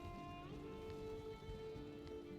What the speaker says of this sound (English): it's sprinkling here